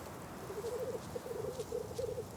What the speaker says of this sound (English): In the northern Carpathians lives one of the rarest birds in the country, the black grouse